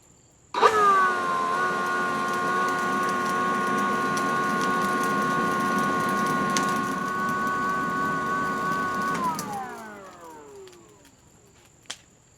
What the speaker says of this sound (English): Take out my beer can launcher, and what I'm going to do is just slightly pull the trigger and give it a gentle blow to engage the rest of the coals.